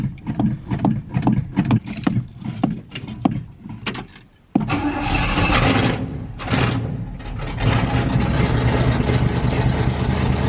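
A 1965 Pontiac Catalina engine cranks in short rhythmic bursts for about four seconds, then catches and fires into a loud, steady running roar close by.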